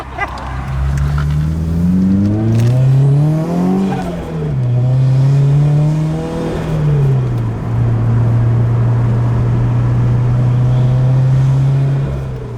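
A Toyota GT86 engine with an HKS exhaust revs up and down repeatedly with a loud, throaty, popping exhaust, then settles into a steady high idle, close to the listener.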